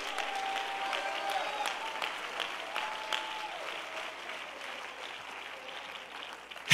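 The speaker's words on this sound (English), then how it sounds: "Clap your hands and shout here today." Church congregation at an Apostolic conference clapping together, a sustained crowd applause with scattered shouts and voices mixed in, moderately loud and steady, easing slightly toward the end.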